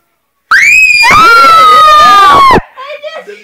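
Loud, sustained screams in a haunted house, a long piercing shriek lasting about two seconds followed by fainter broken cries trailing off.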